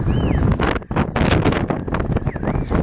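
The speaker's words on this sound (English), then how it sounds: "Very windy, as you can hear." Strong wind on the Bunya Mountains buffets the microphone in loud, continuous gusts, with a brief lull partway through.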